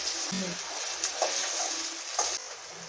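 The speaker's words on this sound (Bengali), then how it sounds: "কড়াতে ঢ্যাঁড়সটা ভাজা হচ্ছে" Okra frying in a wok gives a soft, steady sizzle, with a few light clinks of utensils and a faint low voice in the background.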